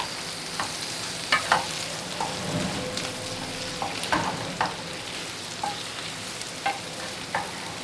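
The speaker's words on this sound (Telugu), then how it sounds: "వేసుకొని దీన్ని బాగా ఇలా కలిపేసుకోవాలి" Ivy gourd frying in a pan under a continuous close sizzle, stirred with a spatula that scrapes and taps the pan roughly every second, with no voices.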